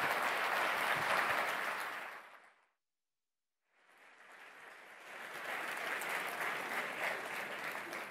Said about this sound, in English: I'm sure you'll join me in with applause, Rishi Sunak, the Prime Minister.